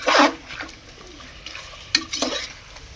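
A spoon stirs and scrapes masala frying in oil in a pan on high flame, with a short burst of sizzling at the start and sharp metallic clinks of the pan, close up and with no voices.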